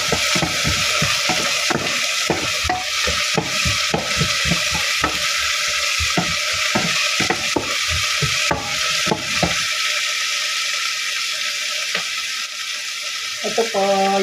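Onions sizzle and fry in a pan while being stirred for pork menudo, a steady close crackle with scraping stirs, fading toward the end as a few utensil clinks sound.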